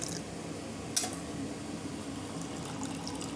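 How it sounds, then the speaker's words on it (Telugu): Tamarind juice pours steadily into a pot, a soft continuous splashing trickle with a small splash near the start, no voices. "చింతపండు రసం వేసుకుందాము"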